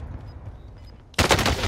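A mounted gun opens fire in a multiplayer shooter video game, a sudden loud rapid burst cutting in after a second of low rumbling ambience.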